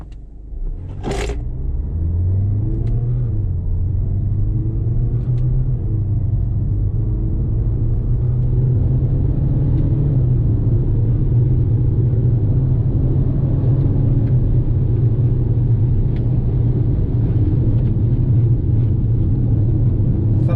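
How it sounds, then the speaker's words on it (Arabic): A Peugeot 2008 pulls away from a standstill in sport manual mode. A steady, loud engine drone and rumble builds under a rising whine, heard close, continuous and with no talking. "نجربوا التسارع ديال السياره في المود سبور مانيوال"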